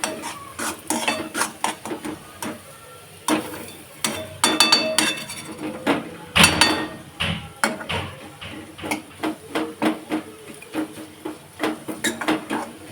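A green spinach paste is stirred and sautéed in oil in a kadai, with a steady run of close metal spoon scrapes and clinks against the pan over a light sizzle.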